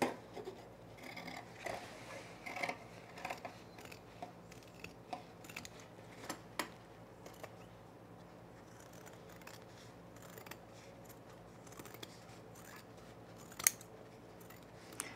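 Scissors snip through fabric trimming seams on men's cargo shorts, a steady run of soft close cuts with occasional sharper clicks, alone with no talking.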